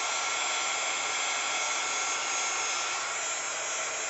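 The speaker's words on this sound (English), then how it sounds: "I'm going to use my heat gun real quick" A heat gun blows hot air over a craft tag, giving a steady, loud, hissing whoosh that holds constant throughout.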